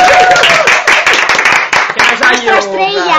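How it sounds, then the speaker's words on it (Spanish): Podcast participants clap in a short burst of applause, dense hand claps filling the room while voices talk and laugh over and after it. "Otro aplauso para Emilio."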